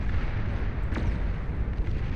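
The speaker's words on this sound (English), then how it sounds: "They'll explode like a big thermonuclear chain reaction" Commander units exploding in the real-time strategy game Beyond All Reason: a sustained, heavy, rumbling blast roar with a sharp crackling burst about a second in, loud and continuous with no voices.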